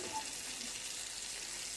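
Fish fries in a pan of oil in a home kitchen, a soft, steady sizzle with fine crackle running evenly throughout, fairly quiet and close.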